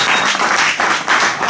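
A church congregation claps and cheers in a dense, loud burst of overlapping hand claps and voices that fills the room without pause.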